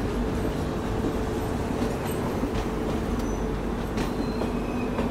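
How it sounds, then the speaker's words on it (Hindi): The Jaipur Double Decker Express train arrives at a platform in India, a steady rolling rumble of railcars with faint wheel squeals and clicks, continuous and fairly close, with no voices. "अभी जस्ट आई है दूसरे प्लेटफॉर्म पे, Jaipur double decker express train."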